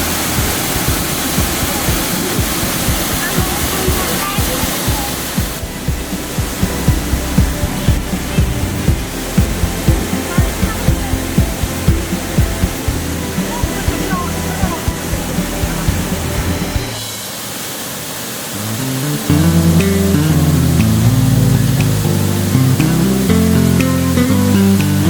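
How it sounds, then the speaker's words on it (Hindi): Bhagsunag waterfall roars as a dense, steady rush of crashing water, loud and close, filling the whole scene without a break. "मुझे लगता है आपको मेरी आवाज़ सुनाई दे रही होगी इस वाटरफॉल की आवाज़ में"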